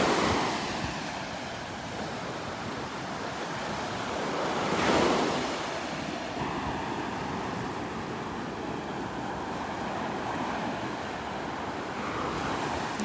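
Ocean waves wash onto the beach at Delnor-Wiggins, a continuous surf rush with one swelling break near the middle, mixed with wind buffeting the microphone and faint distant traffic.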